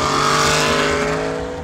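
An Aston Martin V8 Vantage S engine roars loud and close in a sustained, steady drone with strong harmonic tones, easing off slightly toward the end, with no voices.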